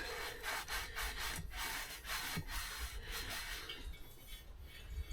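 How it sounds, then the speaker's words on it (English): Rhythmic back-and-forth rubbing of a sanding block on wood, steady scraping strokes that ease off toward the end. "I got one of these sanding blocks"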